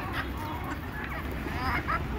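Native backyard chickens are fed on a sunny day, giving a busy mix of clucks and squawks over a low background rumble, with some bird calls rising sharply near the end.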